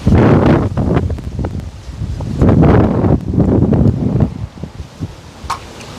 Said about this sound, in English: the wind's terrible with the ball